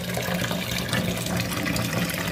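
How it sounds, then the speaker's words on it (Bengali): Running water splashing steadily while dried fish (shutki) is rinsed and cleaned by hand in a kitchen sink, a continuous close, moderately loud wash with no talking. "এখন আমি শুটকিটা ভালো করে ধুয়ে পরিষ্কার করে নিচ্ছি।"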